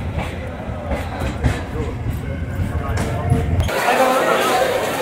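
A crowded passenger train arriving at Namkhana station rolls along with a steady low rumble, and the clatter shifts to a brighter, denser rattle partway through. People talk throughout.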